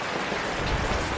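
Steady rain falls in Abra, a dense, even hiss of drops close by that holds at one level for the whole moment with no voices.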